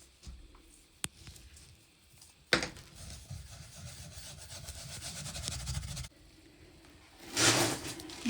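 Vermiculite repair mix is rubbed by hand into a wood stove panel surface, a close, soft scratchy rubbing that starts after a brief knock and continues, ending with a short louder scrape.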